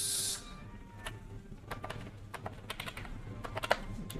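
Typing on a computer keyboard in a Kali Linux terminal, with irregular quiet key clicks over a low background hum after a brief hiss at the start.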